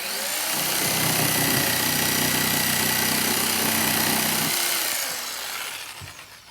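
Wood pieces for a DIY tic tac toe board being cut on a power saw, a loud steady whine and rasp lasting about five seconds before it winds down.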